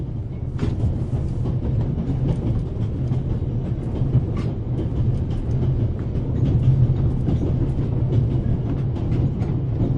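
The Orient Express train in The Raven Remastered rolls steadily along, a low rumbling drone with faint rhythmic clatter from the carriage, heard up close and continuous with no voices.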